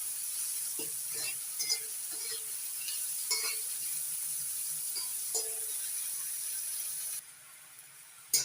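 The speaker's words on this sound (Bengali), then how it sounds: "পেঁয়াজটা ভালো করে ভেজে নিচ্ছি" Chopped onion fries in a pan with a steady close sizzle, broken by scraping stirring strokes at irregular intervals, with no voices.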